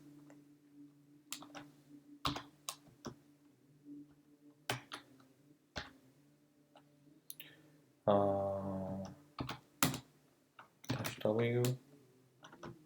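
Keys clatter on a computer keyboard as a Linux command is typed, scattered clicks and short bursts under a voice, with a denser run of rapid keystrokes near the end.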